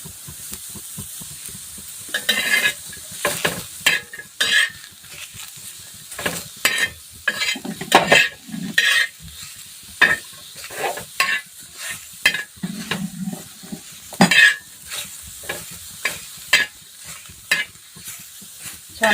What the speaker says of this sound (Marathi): कांदे वगैरे भाजून घेऊ आता आपण